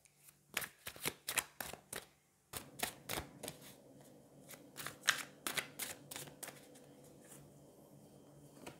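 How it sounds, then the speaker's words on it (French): Cards from a Hush Tarot deck being shuffled and drawn, a close, crisp run of rapid riffling flicks and snaps that thins into softer sliding and handling sounds, with no talk. "on va aller prendre trois cartes du Hush Tarot pour voir un petit peu ce qui se passe."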